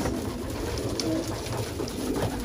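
Racing pigeons cooing softly in a loft, low murmuring coos repeating steadily through a constant background hiss, fairly quiet and without talk.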